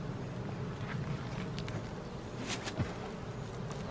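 Honeybees swarming around an open hive as it is smoked outdoors in spring, a continuous close buzzing hum with individual bees zipping past the microphone.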